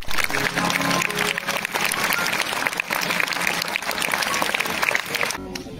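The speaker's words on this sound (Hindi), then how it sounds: "मैं चाहूंगी कि आप इन सबके लिए एक बार जोरदार तालियां" A school audience at a Labour Day celebration gives loud, sustained applause for the cleaning and support staff, a thick wash of clapping from many hands that holds steady before cutting off at the end.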